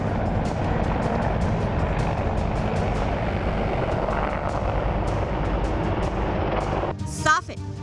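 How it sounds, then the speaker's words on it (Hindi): An Apache attack helicopter deployed at the front in Ladakh gives a loud, steady rumbling roar that continues unbroken for the whole stretch, shifting briefly near the end. "सेना ने अटैक हेलीकॉप्टर अपाचे को भी लद्दाख"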